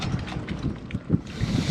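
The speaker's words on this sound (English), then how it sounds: "now the wind's our friend" Wind buffets a microphone on a boat deck, a loud, close, gusting rumble with brief fluttering surges and no voices.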